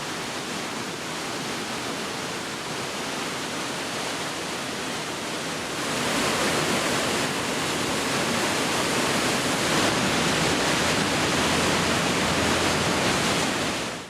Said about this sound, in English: We also stopped off at the bridge over the Hollin River.